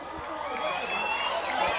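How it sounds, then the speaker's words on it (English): A crowd at a 1997 high school football game between East Providence and Bishop Hendricken cheers and shouts in a steady roar with whistles, heard at a distance while an announcer talks. "The crowd is going wild here."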